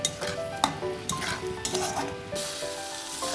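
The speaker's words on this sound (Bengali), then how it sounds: "এরপর ভালো করে মশলাটাকে আমি কষিয়ে নেব" Spice masala sautéing in a pan for a Bengali tangra fish curry with winter vegetables, a steady sizzle and frying hiss under repeated scraping stirs and light clinks of a utensil, close and continuous.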